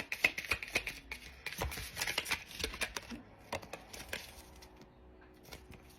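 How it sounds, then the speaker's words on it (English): Someone softly shuffles a tarot card deck, producing a quiet, continuous patter of card taps and flicks that fades toward the end. "Shuffle, see what else."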